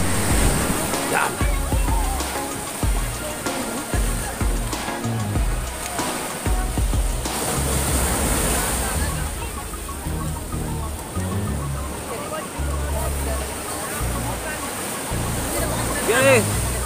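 Surf washes continuously against a shoreline, with repeated surges and sloshing under a constant roar of water; people are talking throughout.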